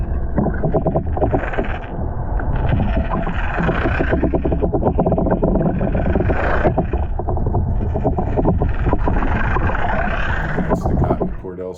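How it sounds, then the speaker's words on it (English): A Cotton Cordell Super Spot lipless crankbait pulled through the water, heard as a steady, loud churning and rattling wash with buffeting wind over the microphone. "let's run this bait past the camera. We'll turn the video off, and you can hear the cotton Cordell super spot."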